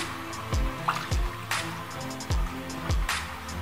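Water is poured into a pot of Peruvian seafood stew with crab broth, giving splashy, bubbling pours with a few distinct glugs and drips, close up and with no talk.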